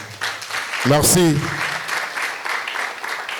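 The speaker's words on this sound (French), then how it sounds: "encore bien plus d'applaudissements, s'il vous plaît" An audience at a conference on energy sovereignty breaks into applause, with a broad wash of clapping and a brief spoken word near the start.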